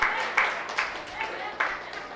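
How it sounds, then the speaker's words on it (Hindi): Bursts of audience clapping at a Hindi religious discourse, arriving in several quick rhythmic waves of moderate loudness, with no clear voice over them. "तालियां बजाओ।"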